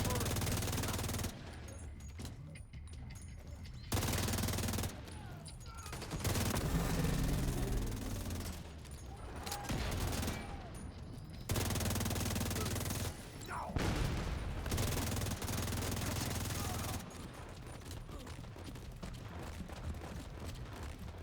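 Automated turret firing in a video game during a fiery Brooklyn battle, heard as loud, sustained bursts of rapid gunfire with booms and clanking mechanisms. The bursts pause and resume across the whole stretch, with voices talking in between.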